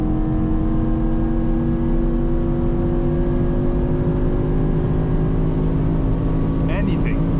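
A Mercedes AMG GT63 hybrid V8 drives hard on the Autobahn at night, heard from the interior as a steady, loud engine drone with a brief higher burst near the end.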